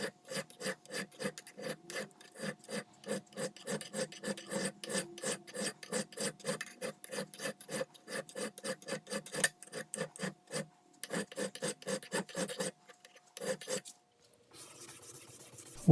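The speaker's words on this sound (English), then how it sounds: "I'm using a file here to smooth the back of the blade." A metal file rasps along the back of a rusty drywall saw blade in steady, rhythmic back-and-forth strokes, close and distinct, pausing briefly near the end before a quieter scraping follows.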